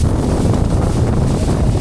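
Strong wind at the cold summit of Gunung Agung in Bali, a dense, roaring rumble buffeting the microphone with constant low gusts and no voices.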